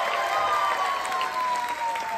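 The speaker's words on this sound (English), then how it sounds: "keep the applause going for our last speaker of the night" An audience at a comedy festival applauds in steady, dense clapping that fills the room, with a faint tone underneath.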